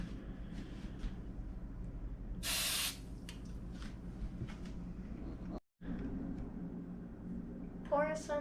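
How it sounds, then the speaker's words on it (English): Cooking spray hits a pancake pan in one short, bright hiss lasting under half a second, set against a steady kitchen background hum. "Lightly spray your pan."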